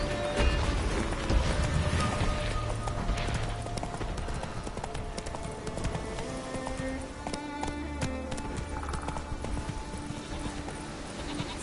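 Roach, the horse in The Witcher 3, clip-clops along at a steady gait, hoofbeats close and rhythmic over game music and ambience, with a whinny and occasional clattering.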